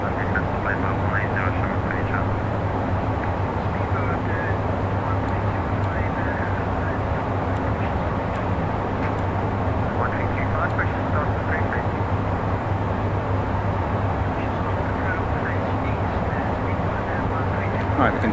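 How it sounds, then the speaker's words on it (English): Challenger 650 jet engines in the X-Plane 12 flight simulator give a steady, loud broadband roar that never lets up, with voices talking over the drone. "we can turn the aircraft noise down by putting on our Bose headset"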